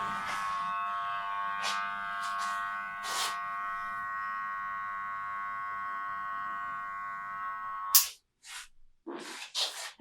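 Electric hair clippers buzzing steadily near at hand while trimming a child's hair at home, the hum running continuously for about eight seconds with brief brushing sounds, then cutting off into short scattered noises.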